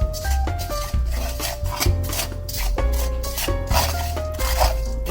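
Salt and Sichuan peppercorns are stirred in a pot while roasting over low heat, making a steady, close scraping and rasping rustle with irregular strokes and an underlying hum.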